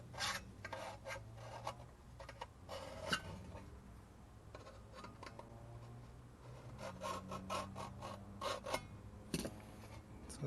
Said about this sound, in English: And then we're just going to scribe a line.